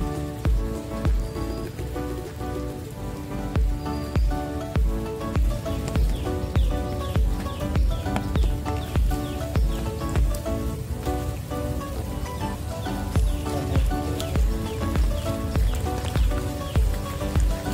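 Heavy monsoon rain at a bird sanctuary nature centre in Goa pours steadily throughout, a loud, dense patter of drops on surfaces with no pauses and no voices.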